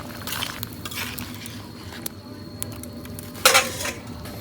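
Curry being stirred in a pot after cumin paste goes in, with soft scraping and bubbling throughout and one sharp metallic clink of a utensil against the pan near the end.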